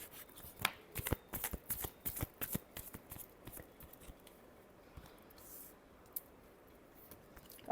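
Tarot cards riffle and slap in a close shuffle, a quick run of sharp flicking bursts that eases into softer sliding and a few scattered taps, with no talk.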